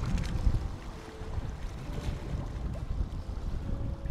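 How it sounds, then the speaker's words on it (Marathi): Calm water laps gently in the evening in Victoria, Canada, a soft, continuous wash mixed with light wind noise and no voices. "लिटरली एवढं शांत सुंदर पाण्याचा तो आवाज"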